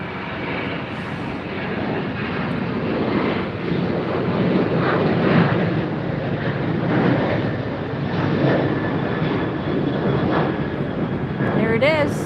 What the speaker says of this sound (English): There it is. British Airways 380.